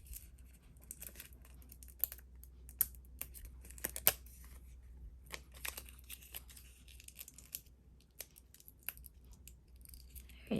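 Paper is cut around a sticker for a scripture journal, heard as faint, sparse snips and small crinkles spread over a quiet background, close but soft, with no speech.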